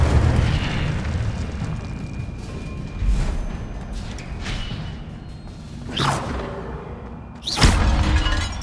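An Incendio fire spell is cast in the Hogwarts Legacy video game, heard as whooshing bursts and deep booms over a rumbling game background, with sharp flares of sound near the middle and end.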